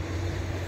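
Urban road traffic during an outdoor bushcraft session in the city, a continuous low rumble of passing vehicles at moderate distance, steady and fairly faint.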